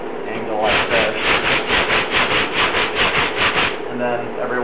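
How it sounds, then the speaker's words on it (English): Sandpaper is worked across a body filler repair on a dented panel at a cross angle, making a rapid series of about a dozen rhythmic rasping strokes that are close and loud, with no speech over them. "while you're sanding too, you don't want to just go back and forth. You want to go on a cross angle like this"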